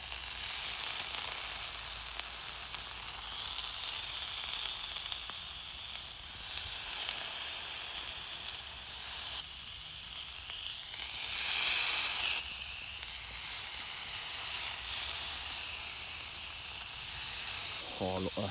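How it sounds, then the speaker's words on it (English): Steak with butter sizzling gently in a pan on very low heat at a windy campsite, a soft continuous hiss that stays steady and fairly quiet throughout. "I'm going to put the steak back in the pan on a low heat, very, very low heat."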